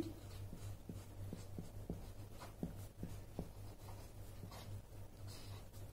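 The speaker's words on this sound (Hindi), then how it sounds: "स्टूडेंट्स आप देखते जाइए मैं क्या लिख रहा हूं" A hand writes in short quick strokes, giving faint scratchy taps in an irregular rhythm over a low steady hum, close and quiet with no talk.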